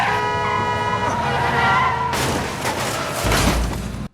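Cars in a tense road rage scene from the TV series Beef, with a driver clashing against a white SUV: loud, continuous engine and road noise, then a sudden harsh burst of rushing sound and a heavy low thump near the end.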